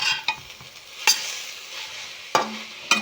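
Carrot halwa (gajar ka halwa) frying in a pan on low heat gives a soft sizzle, broken by a few sharp scrapes and clicks as a spoon stirs it, close up and with no talk.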